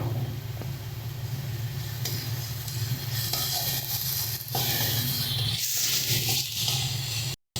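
Green chili paste and ginger paste frying with onions in a pan for a pomfret fish curry, a steady close sizzle with low hum underneath and a few scraping stirs, no voices.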